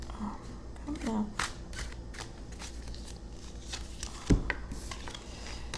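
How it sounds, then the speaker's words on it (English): Cards shuffled close by in short crisp riffles, with a brief sharp knock partway through and a faint murmur of voice early on. "One more shuffle."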